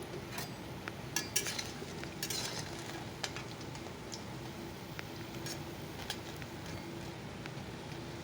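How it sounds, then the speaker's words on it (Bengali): Taro fritters fry in a pan of oil with a faint steady sizzle, broken by occasional light clinks and scrapes of a utensil against the pan. "তো চলো এইভাবে বড়াগুলোকে ভেজে নিই"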